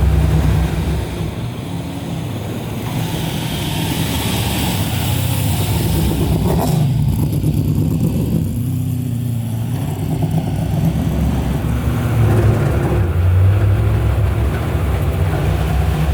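A loud, close NASCAR race car engine in a 1970 Plymouth Cuda drones for a long stretch, revving around 2,000 RPM. Its pitch shifts as it revs, with a rough, rumbling texture throughout.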